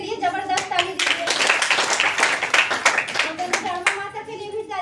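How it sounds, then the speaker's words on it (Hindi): An audience at a DXN motivational meeting claps in bursts, with sharp individual hand claps rising into a loud, fast round of applause and then thinning out, while a voice talks over part of it. "ऊपर वाले मालिक के लिए जबरदस्त ताली दीजिए"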